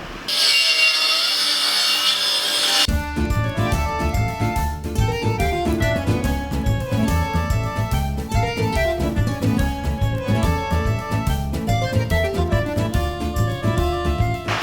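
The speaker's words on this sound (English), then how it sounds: "I'm going to cut up some Iroko and get laminating." Iroko tropical hardwood is cut into thin strips for laminating a yacht's timbers. After a brief burst of another noise, the saw runs in a steady, rhythmic cut with repeated strokes and no talk.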